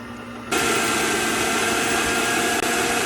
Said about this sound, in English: I'm gonna add it to my mixer. Go ahead and let that be mixing.